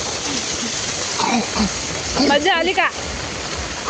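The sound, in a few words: heavy rain at night, rushing water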